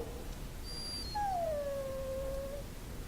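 A dog in the Dragon Age game lets out a single drawn-out howl that slides downward and fades, close and fairly clear over a low background murmur, with no talking.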